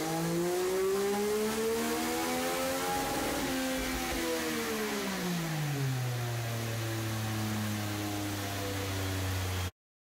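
A stock 2021 Triumph Speed Triple 1200 RS on a dyno, its engine revving up under load, peaking, then dropping back to a steady lower drone before cutting off abruptly near the end.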